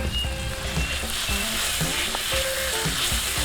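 Pork sizzles loudly in a pan with garlic and chili, a dense, close, continuous frying hiss with stirring clatters and a faint tonal hum underneath.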